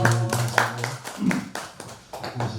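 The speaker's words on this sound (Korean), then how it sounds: "박수로 맞이해 주세요." An audience at a Buddhist environmental-ethics lecture welcomes the lecturer with scattered handclaps. The sharp claps are close and irregular, mixed with a brief voice.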